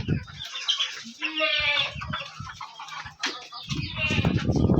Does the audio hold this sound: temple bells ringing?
no